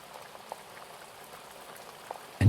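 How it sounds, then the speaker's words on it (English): Distant flowing water along a walking path, a soft steady wash with faint scattered drips and bubbling, no voices, ending in a sudden louder burst. "in the distance you start to hear the sound of flowing water"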